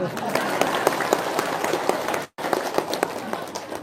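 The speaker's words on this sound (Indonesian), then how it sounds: "Ya udah, tepuk tangan dah." Audience clapping at an Indonesian talk or seminar, a dense spatter of many hands filling the room at moderate level, broken by a brief cut partway through, with voices murmuring under it.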